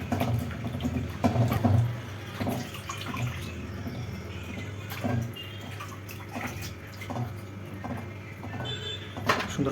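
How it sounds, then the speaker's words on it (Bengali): Chicken feet are swished and rinsed in cold clean water in a kitchen basin, giving a continuous moderate sloshing and splashing with small irregular clinks and no talking. "আরেকবার ধুয়ে নেব, এবার ঠান্ডা জল পরিষ্কার জল দিয়ে।"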